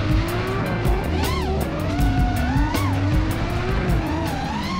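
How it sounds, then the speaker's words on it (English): Engines roar continuously as cars drift at a drag and drift event, with tires squealing in rising and falling wails over a loud, steady mechanical din. "behind us over here, as you can see, drifting"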